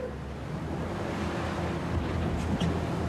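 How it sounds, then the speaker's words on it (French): Strong sea wind buffets a training launch at sea, a steady broadband roar of gusts and surf washing against the hull, continuous and close with no voices. "Le vent souffle à plus de 40 km/h."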